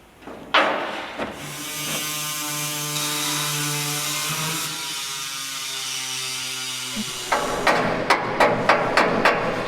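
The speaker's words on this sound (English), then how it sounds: "Stupid caulking gun." A caulking gun ratchets while old caulk is worked on a 1956 Ford F100 firewall, first a long sustained grinding squeal with a buzzing tone, then a quick series of sharp, loud mechanical clicks near the end.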